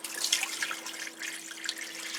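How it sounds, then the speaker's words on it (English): Water is poured into the bottom of a large roasting pan holding a glazed ham, a light continuous splashing trickle at moderate distance with no voices. "I want to add some water to the bottom of the pan."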